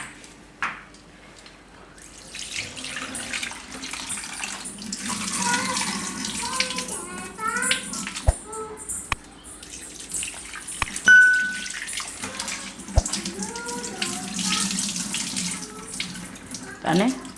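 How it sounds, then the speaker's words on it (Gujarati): Poha (flattened rice) being rinsed under a running kitchen tap, a steady splashing water stream with small clinks of a vessel, continuing throughout at close range. "પૌવા છે એને 2 થી 3 પાણીએ ધોઈ નાખશું"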